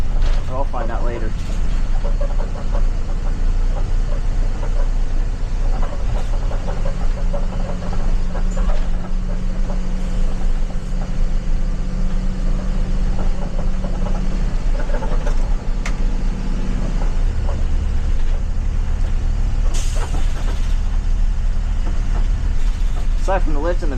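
Interior of a 2012 Thomas C2 school bus on the move, with a steady engine and road drone under faint rattles and creaks from the body and back lift. Someone talks over it at times.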